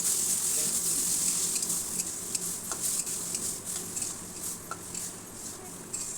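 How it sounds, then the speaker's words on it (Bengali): Egg tarka, a lentil dish with egg, being stirred and fried in a pan: a steady hissing sizzle runs throughout, with scattered light scrapes and clinks of a spoon against the pan. "তরকাটা আমি একটু ভালো করে কষিয়ে নেব"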